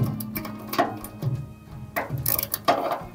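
A ratchet wrench is worked to adjust the table of a Leman SRU470 bandsaw, giving bursts of quick metallic clicking pawl strokes with pauses between them, close and fairly loud, with no voices.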